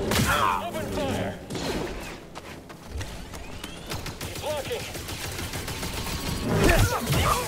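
Dense blaster gunfire in Star Wars Jedi: Fallen Order, rapid overlapping shots and impacts crackling continuously for several seconds, with game voices mixed in.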